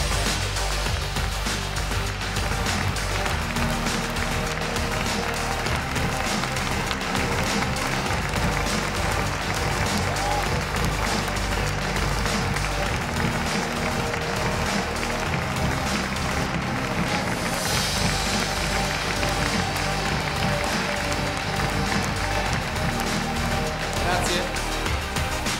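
At the Lamborghini Urus world premiere, an audience applauds the Lamborghini workers, a dense, steady clapping that stays loud and unbroken throughout.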